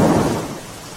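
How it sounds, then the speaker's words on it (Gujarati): A heavy downpour in Tapi district, Gujarat, carries a deep thunder rumble that swells at first and then fades beneath the steady hiss of rain. "સાથે જે રીતે વરસાદ પડી રહ્યો છે"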